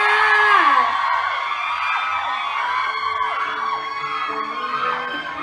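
A crowd of excited fans at a Thai mini-concert screams and shrieks together, a loud continuous wash of high-pitched cheering with rising whoops.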